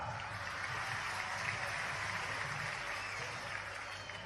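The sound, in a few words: audience applause at a public event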